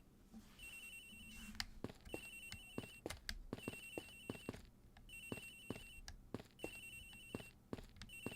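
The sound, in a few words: phone ringing in the video game Ace Attorney Investigations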